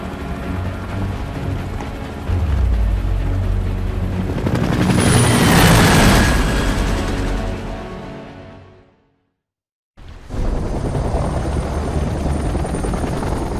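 A helicopter in the video game Gears of War Aftermath roars with a loud, steady rotor thrum that swells to a peak, fades out into a second of silence, then cuts back in at full strength.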